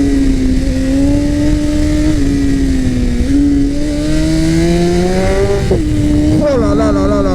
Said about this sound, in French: Les retours de flamme au passage de rapport, c'est incroyable